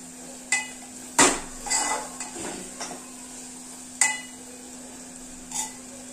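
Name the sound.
sautéing tomato, onion and spices in oil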